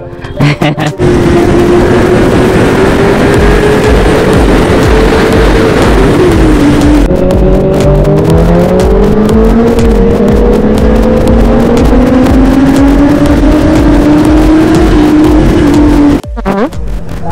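A motorbike engine revs continuously and loudly while riding on a dangerous Sunday ride, its pitch climbing and dipping with throttle changes, steady wind rush underneath, ending in a brief sharp drop.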